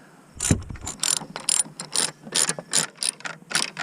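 Ratchet clicking in quick repeated bursts while loosening the 10 mm battery bolts on a 2007–2013 Acura MDX 3.7 during starter replacement, close and clear with no talk.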